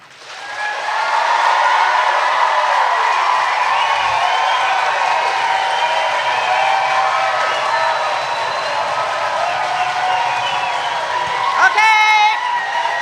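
An audience at a congressional candidate forum claps and cheers in a steady, dense wash of applause with whoops, holding at full strength for several seconds before a brief swell near the end.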